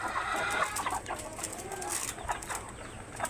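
A large, meaty multi-coloured rooster on a poultry farm, fitted with a nose clip, gives a series of short, close clucks over steady farmyard background noise.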